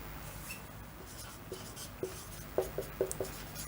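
Pen or pencil writing coordinates by hand on paper during a maths lesson, heard as a series of faint, close scratchy strokes that grow more distinct toward the end, with no talking.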